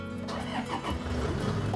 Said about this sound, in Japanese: これディーゼルだから、 はい、エンジンかけるときにグローがついて消えてからですね